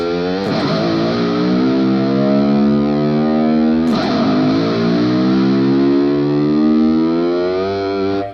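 Heavily distorted electric guitar sliding upward in pitch, then dropping and climbing again, mimicking an engine revving through gear changes; loud and continuous.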